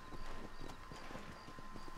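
Steady clip-clop of horse hooves at a trotting rhythm over a constant wind-like background, moderately loud with no voices.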